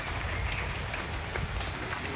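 Light drizzle keeps falling after a brief downpour in May under heavy clouds, a soft, steady patter of drops on surfaces throughout, with no speech.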